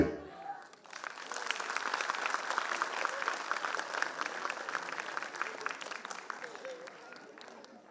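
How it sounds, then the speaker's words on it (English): At a school annual function, an audience applauds students after a dance performance, steady crowd clapping rising after a brief pause and continuing evenly for several seconds, with voices faintly mixed in. "a big round of applause for our students"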